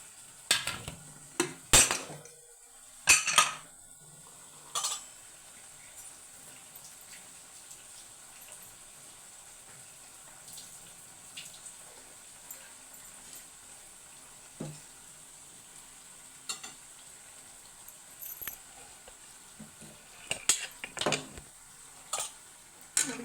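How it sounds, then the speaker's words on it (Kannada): Boiled legumes being tempered in a pan give a faint, low sizzle, broken by several sharp clanks and scrapes of a spoon stirring against metal, with quiet pauses between the bursts. "ಕಾಳು ಒಗ್ಗರಣೆ ಹಾಕ್ತಾ ಇದ್ದೀನಿ"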